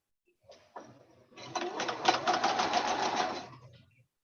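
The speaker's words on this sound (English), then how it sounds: "but I'm sewing away" A home sewing machine stitches in a quick rapid run for a couple of seconds after a few short starts, close and fairly loud, in a quilting and crafts session with no talk.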